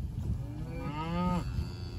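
A single cow moos loudly and nearby in a paddock, one long drawn-out low call rising and fading over about a second, with steady background noise around it.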